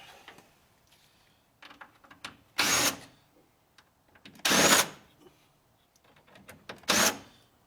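Power drill backing screws out of a projection TV being scrapped, three short whirring bursts separated by pauses and quiet handling clatter.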